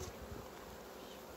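A colony of honeybees crowding over a pollen patty laced with strong essential oil at the hive, their dense, steady buzzing filling the air close by without pause.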